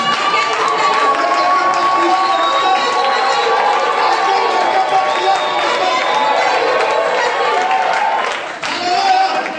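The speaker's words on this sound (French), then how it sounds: "est-ce que quelqu'un peut crier ce matin?" A church congregation shouts together in a loud, dense crowd roar that holds steady for nearly ten seconds, with cheering and clapping mixed in and only a brief dip near the end.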